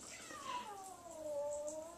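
Cat giving a long, drawn-out unhappy meow while being bathed, one wavering wail that falls and rises, faint and alone against a soft hiss of running water.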